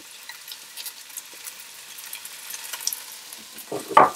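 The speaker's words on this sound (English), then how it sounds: "I'm going to put my onions in." Onions go into a pan of rendered lamb fat for shepherd's pie with a soft, steady sizzle, then a louder burst of frying and a stirring scrape near the end.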